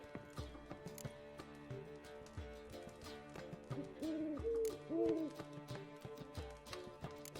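An owl hoots a few times in The Witcher 3: Wild Hunt, its short pitched calls rising over steady background game music and ambient sound.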